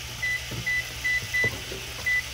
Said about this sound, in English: So I'm just gonna put that timer on here.